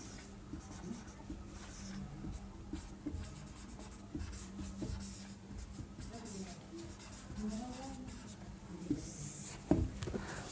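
Writing on a board during a physics class on significant figures: a faint, continuous scratchy stroking under low room noise, with a brief louder tap near the end.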